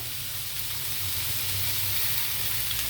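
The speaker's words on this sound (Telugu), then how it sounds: "మనం డీప్ ఫ్రై చేయకుండా ఇలా షాలో ఫ్రై చేసుకుంటే ఎన్ని ముక్కలన్నా తినొచ్చండి" Fish shallow frying in a little oil in a pan, with a steady, even sizzle and hiss running continuously throughout, heard close up with no voices.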